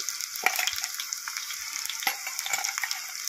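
Garlic sizzles and crackles in hot oil for pappu charu, a steady close-up frying hiss with small pops and occasional stirring scrapes, no voices.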